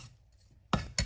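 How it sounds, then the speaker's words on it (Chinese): A kitchen knife chops small red xiaomila chili peppers into rings on a cutting board. After a quiet moment come two crisp, close strokes in quick succession, with no voices. "放两个小米辣锻炼一下，切成小圈"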